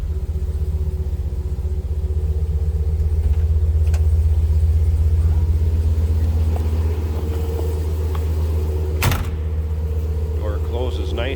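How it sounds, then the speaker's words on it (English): A 1965 Chrysler Newport engine idling in neutral with a stock-sounding exhaust, giving a steady, deep, even rumble that holds at constant speed, with a brief sharp knock near the end. "just a good sounding car"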